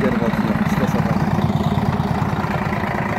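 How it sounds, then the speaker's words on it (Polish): MAN city bus engine running, a loud low throbbing rumble with a steady pulsing beat close by, continuous throughout. "Ryk silnika."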